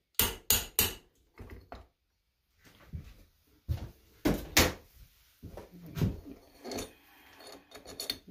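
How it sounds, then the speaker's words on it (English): A hammer strikes the back of a Kohler CH18 engine cylinder head during a head gasket replacement, giving a series of sharp, close knocks in irregular groups with brief quiet gaps between them. "Universal hammer to the back of the head."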